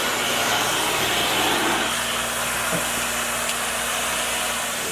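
A Sac Surface Pro tile and grout cleaner runs with a steady, loud machine roar of heated spray and vacuum suction, continuous across the whole stretch with a constant hum beneath.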